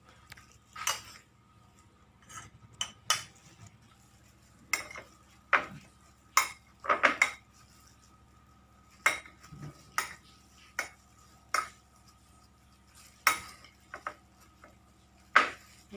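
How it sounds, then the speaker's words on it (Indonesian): Tofu and tempeh being mixed together in a bowl, giving a run of sharp, irregular clinks and scrapes of a utensil against the bowl with quiet gaps between them, close and moderately loud. "Tahu dan tempe kita campur menjadi seperti ini."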